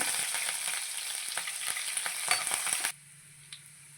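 Curry leaves frying in hot oil for a lentil dal tempering, a dense crackling sizzle for about three seconds that then cuts off abruptly to a quiet hum with one faint tick.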